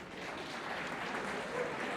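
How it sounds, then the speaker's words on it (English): Students in a classroom clap together in a sustained, even burst of applause lasting about two seconds, moderately loud and steady, with no voices over it. "I don't know, for everything you clap."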